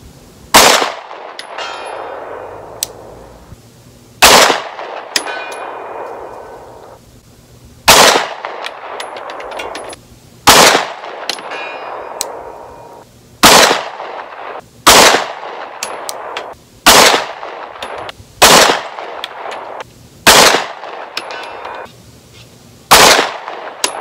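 Rifle shots fired at a target while testing a Primary Arms Classic Series mini red dot sight, about a dozen sharp, loud cracks spaced a couple of seconds apart, each ringing briefly, with no talk.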